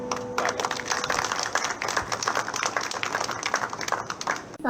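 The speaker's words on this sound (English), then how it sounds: "let's just give him another round of applause" An audience applauds a singer after a performance at a hotel and restaurant grand opening, with dense clapping under cheering and voices that tapers toward the end.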